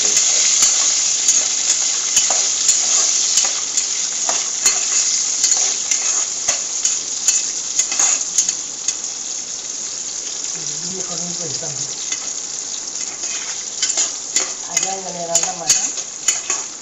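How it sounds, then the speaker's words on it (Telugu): Cashews fry in ghee for bread halwa while a spoon stirs them, giving a loud, bright, continuous sizzle broken by sharp clinks of metal against the pan. "జీడిపప్పు నేతిలో వేసుకోవాలన్నమాట, గోల్డ్ కలర్ వచ్చేంత వరకు"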